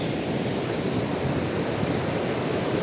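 Energetic water rushes and splashes in a steady, loud, unbroken wash of noise, close by, with no voices.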